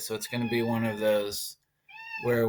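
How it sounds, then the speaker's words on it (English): A house cat meows close to the microphone in brief tonal calls that mix with and interrupt a person speaking, with a short silent gap before the talk resumes. "oh, that's my cat. He wants to go outside."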